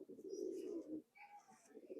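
A Khulna Chot Madi pigeon coos up close, a low, throaty rolling coo, a short pause with faint higher chirps, then the cooing resumes, quiet and without talk.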